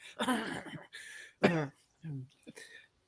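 A voice imitates an old man's cough in a few rough, throaty bursts with short pauses between them, close and fairly quiet.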